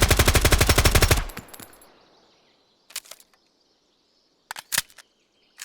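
A rapid full-auto burst of about a dozen evenly spaced loud gunshots in the video game Road to Vostok, ending in a fading echo, followed by a few faint, scattered bird chirps.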